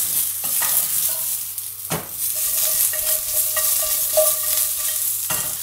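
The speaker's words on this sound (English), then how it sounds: "we're going to add in my carrots. Just allow it to fry a little bit." Carrots and mushrooms fry in a pan with a quiet, steady sizzle, punctuated by a few clinks and scrapes from stirring, close by with no talking.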